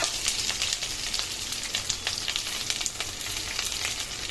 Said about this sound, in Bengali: তেলটা গরম হয়ে গেছে, এবার দিয়ে দেবো এই কেটে রাখা পেঁয়াজ আর গোটা রসুনটি